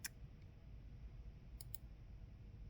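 A few quiet computer mouse clicks during a Zoom room session, one at the start and a close double click about a second and a half later, faint and crisp over low background hum.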